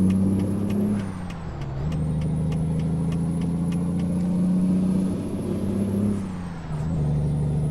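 A truck engine drones steadily in American Truck Simulator, a loud low hum that dips briefly twice, with faint periodic clicks above it and no talking.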